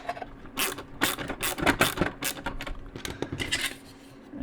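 Clicking, clattering plastic as panels are fitted onto a Batmobile model kit, a quick close series of snaps and taps that trails off.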